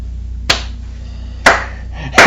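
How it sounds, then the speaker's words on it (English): Three slow, loud, deliberate hand claps ring out close by, spaced about a second apart, in an otherwise quiet room. "I get the slow clap."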